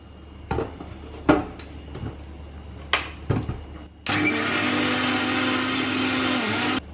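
A mixer grinder grinding coconut dosa batter whirs loudly and steadily for about three seconds, preceded by a few sharp clanks and knocks.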